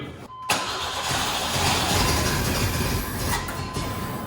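A lifted 1955 Ford F100 truck engine cranks steadily for several seconds without firing, a continuous whirring starter drone that stops and restarts briefly near the end.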